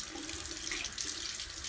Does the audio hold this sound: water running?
yes